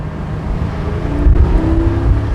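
Porsche 718 Spyder engine pulling hard under acceleration around 3,000 RPM, a steady loud low growl with rising harmonic tones from inside the car, no talk over it.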